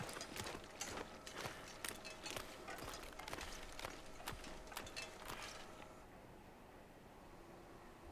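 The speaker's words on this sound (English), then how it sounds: "I hear footsteps in the snow" Footsteps crunch through snow in The Long Dark survival game, a steady run of soft, rapid crunching steps that fades and thins toward the end, with no talk over them.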